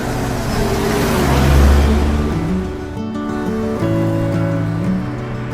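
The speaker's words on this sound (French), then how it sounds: "véhicule en fuite, coupé sport noir, direction nord, poursuite en cours" A black sports coupe speeds away in a police chase, its engine roaring and revving up to a loud peak, then dropping and rising again as it pulls away, with whooshing road noise throughout.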